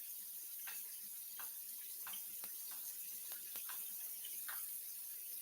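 A faucet runs quietly and steadily at a kitchen sink while produce is washed, with faint clinks and taps scattered through the soft hiss of the water.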